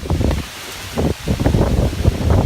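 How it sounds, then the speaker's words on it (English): Gusty outdoor wind buffets the microphone in uneven, rumbling bursts with rustling texture, rising and falling over a couple of seconds without speech. "Wow, all of a sudden there's wind."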